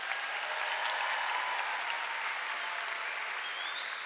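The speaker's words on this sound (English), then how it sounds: "Another round of applause for them." The crowd at a high school graduation ceremony claps for the graduating class, giving a sustained, even round of applause that sounds somewhat distant and fills the whole hall.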